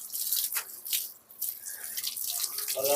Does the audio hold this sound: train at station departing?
no